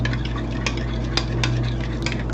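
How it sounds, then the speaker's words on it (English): Vigorous stirring in a pot or bowl, with a spoon scraping and clattering in quick irregular strokes over a constant low hum, nearby and fairly loud. "So it says stir vigorously."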